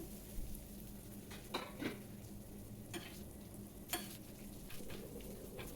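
Ridge gourd peels fry on a tawa in a faint, low hiss, with a few soft, scattered scrapes and taps as they are stirred.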